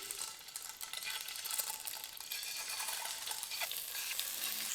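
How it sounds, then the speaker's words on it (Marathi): Boiled, cut eggs go into well-heated oil and sizzle loudly, a dense steady frying hiss close up with faint utensil movements and no talk. "आता तेल चांगलं तापलं यामध्ये आपल्याला ही उकडून कापून घेतलेली अंडी घालायची"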